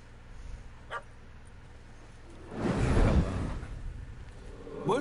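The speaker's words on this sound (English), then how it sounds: "He's really gonna have fun with the dog now." A dog in the video game The Witcher 3: Hearts of Stone gives a short bark early on, followed by a louder whooshing burst mid-clip and a few more yelps near the end, all at moderate distance.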